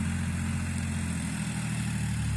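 A tractor pushes and clears farmland in rural Thailand, its engine a steady low rumble at moderate distance, holding a continuous even drone with no talk.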